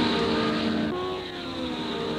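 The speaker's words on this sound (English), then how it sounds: "Cars are pushed to the limit, and Miller gives an indication of the furious pace" Racing cars at full pace at the 1960 Bathurst 100 Easter race, engines roaring loud and close in a sustained high-revving drone that shifts pitch midway as a car changes gear or passes.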